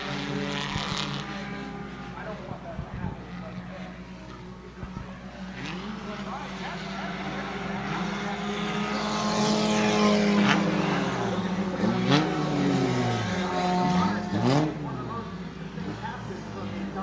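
Bomber-class stock cars roar around New Smyrna Speedway in a short-track feature race, engines droning and rising and falling as the pack passes, loud and continuous under a race announcer's commentary.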